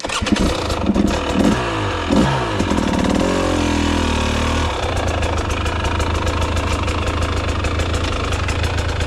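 A KTM 300 TBI two-stroke motorcycle starts up, revs in a few short bursts, then settles into a steady loud close engine drone as it pulls away in second gear.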